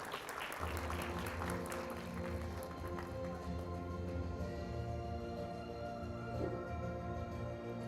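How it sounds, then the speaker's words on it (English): Audience applause at a principals' conclave honoring ceremony, steady and sustained across the room, mixed with a tonal musical backdrop throughout. "A big round of applause."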